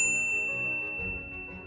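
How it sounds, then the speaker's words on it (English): A single bright notification-bell ding rings out and slowly fades, sitting over a faint low background bed. "ring the bell to be notified about our latest videos"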